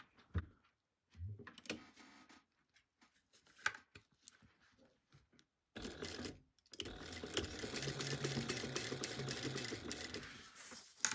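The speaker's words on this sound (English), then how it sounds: "And then we're sewing this on at 1/4 inch seam allowance." A sewing machine stitches a bag lining at a quarter-inch seam allowance, starting after brief handling clicks and running in a steady, fairly close whir for the last five seconds with no talking.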